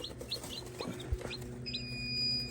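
Tiny high-pitched peeps from a newly hatched turkey chick, several short chirps followed by a longer thin cheep, close by with soft handling noise.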